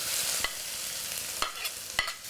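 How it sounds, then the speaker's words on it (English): Shallot frying in hot oil in a pan for a Vietnamese lemongrass chicken dish, a steady close sizzle with a few sharp stirring clicks, no voices. "wait until the pan is hot, and I'm going to add the oil. The pan is hot enough. Oil, shallot,"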